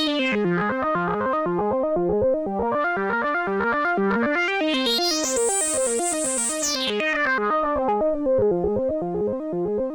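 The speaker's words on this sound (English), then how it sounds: "this is a sine wave pulled from one of the oscillators that's also going into the audio" A continuous sine-wave synth tone from an oscillator, swept through an MFOS 12 dB multimode resonant filter, with bright, rippling harmonic sweeps rising and falling steadily for the whole stretch.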